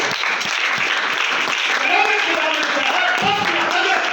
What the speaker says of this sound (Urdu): جب زور سے تالی بجاتے ہیں